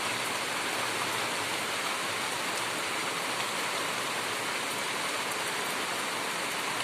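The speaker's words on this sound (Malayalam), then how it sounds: "അത്യാവശ്യം ഒരു മഴ കിട്ടി" Steady rain falls in a continuous, even hiss, close and moderately loud, with no voices or other sounds breaking through.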